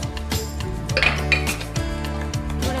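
A bowl is set down among pots and pans while cooking Bengali hilsa fish paturi, giving a few close, ringing clinks and knocks of kitchenware over a steady background, with no talking.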